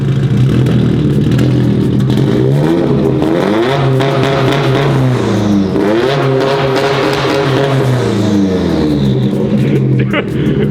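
A loud Subaru WRX engine revs hard again and again, its pitch climbing and bouncing off the rev limiter, close and raw, shaking rust loose from the car.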